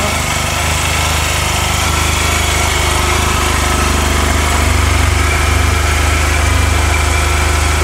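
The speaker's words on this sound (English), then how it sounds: "So let me fire it up. Just come around to the back and just get the sound of that muffler." A 2009 Honda Silverwing 600 scooter fitted with a LeoVince 8552 slip-on muffler idles steadily, recorded close behind the exhaust with a loud, even, continuous burble and no talking.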